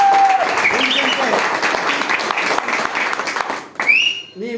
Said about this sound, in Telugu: ఒకసారి గ్రాండ్ క్లాప్స్